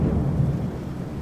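Steady rain drums on the roof of a truck, a soft continuous patter with a low rumble and nobody speaking.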